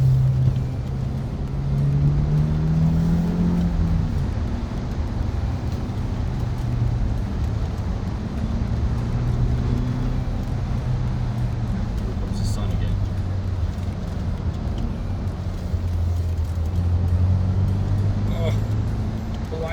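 A car drives a winding mountain highway, HWY 215 in western North Carolina, its engine humming steadily from inside the cabin with pitch rising and falling across second and third gear shifts.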